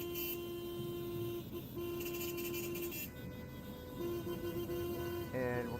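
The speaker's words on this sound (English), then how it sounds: "so now they're going to do a lot of honking" Car horns honking on a street, sustained toots that stop and restart, heard over steady traffic noise with voices talking in the background.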